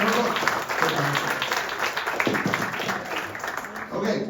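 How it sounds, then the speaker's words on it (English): A room of people at an association membership meeting applauds guests; dense, steady clapping over a murmur of voices throughout, fairly close and moderately loud. "can we have a big round of applause for these guys here?"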